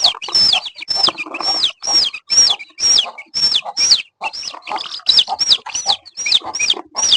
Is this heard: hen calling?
yes